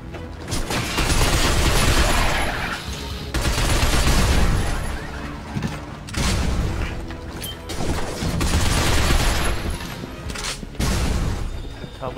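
Heavy gunfire in the video game Binary Domain roars in long, loud bursts of fusillade and crashing impacts, separated by brief lulls, close and dominant throughout.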